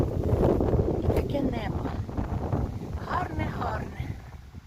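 Wind buffets the microphone with low rumbling gusts while a person talks faintly over it, outdoors during an autumn apple harvest.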